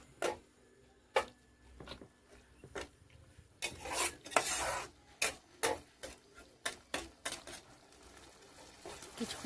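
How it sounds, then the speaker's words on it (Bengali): Spice masala for a Bengali katla fish curry is stirred and sautéed in a pan. Rhythmic scraping and rasping strokes repeat close by, with sharp ticks and a louder, brief flurry of rubbing midway. "ভালো করে কষিয়ে নিতে হবে যাতে মশলা থেকে তেল ছড়িয়ে আসে"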